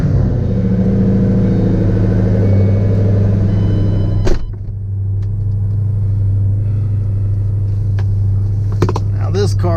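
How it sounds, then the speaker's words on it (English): A supercharged Ford Shelby GT500 with just under 36,000 miles, a cold air intake and an exhaust tune, cold-starts into a loud, steady, deep rumble close by, with a sharp burst partway through before it settles back to a heavy idle. "cold start on the GT500"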